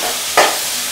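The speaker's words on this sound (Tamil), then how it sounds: "இப்போ கேரட்டையும் போட்டு வதக்கி விட்டுங்க." Carrots sizzle in a hot pan with a steady crackling hiss, and a brief louder burst as pieces are stirred or added.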